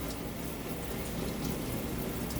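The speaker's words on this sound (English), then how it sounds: "You want the water to run down your elbow." Tap water runs steadily during a surgical hand scrub, a continuous close splashing rush with no voices over it.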